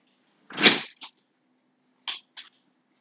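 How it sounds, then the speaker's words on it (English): Sliding scrape followed by a thud, then two short knocks a second later, like a window being pushed shut and latched, close by in a quiet room. "I need to close my window over here."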